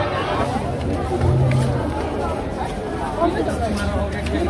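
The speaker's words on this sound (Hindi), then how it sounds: "कितना भीड़ है। बहुत ज्यादा भीड़ है" A large crowd at an outdoor Adivasi Day gathering in Ranchi, with a dense, continuous babble of many voices close by and a steady level throughout.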